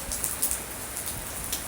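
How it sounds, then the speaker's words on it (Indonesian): Steady rain falls on a surface for a short stretch, a dense even hiss with small irregular drop patters and no voices over it. "ini hujan guys, hujan"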